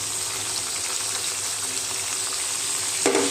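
Sliced ridge gourd sizzles steadily in a hot pan as turmeric and chili powder are added, a dense even frying hiss with a brief clatter of stirring near the end.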